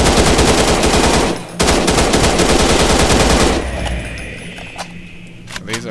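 Rapid automatic gunfire in the sci-fi shooter game Shoot Your Nightmare: Space Isolation, a loud dense burst lasting several seconds, stopping briefly, then resuming before trailing off into quieter ambience with a few scattered clicks.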